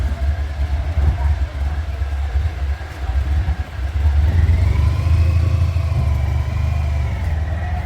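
A motorcycle on a European tour in Spain, a Honda ST1100 or BMW R1250RT, rides off with a low engine rumble that swells as it revs and pulls away, close and fairly loud.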